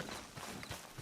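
Horse hooves clip-clopping in Red Dead Redemption 2, a quiet rhythmic run of soft thuds at moderate distance under faint game ambience.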